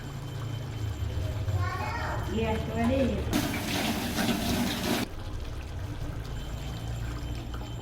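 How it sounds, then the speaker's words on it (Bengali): Hot water poured into chicken cooking in a pot, a loud rushing pour lasting under two seconds over steady stovetop bubbling, with a voice speaking just before. "এবারে আমি একটু গরম জল দিয়ে আর একটু ফুটিয়ে নামিয়ে নেবো।"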